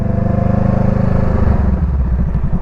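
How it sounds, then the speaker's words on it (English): A motorcycle engine idling in first gear with light throttle, close and loud, with a rapid, even, chugging pulse that quickens slightly as the throttle is eased on. "We're going to lightly hit the accelerator, right? And then we're going to let go and then just pull the accelerator ever so slightly"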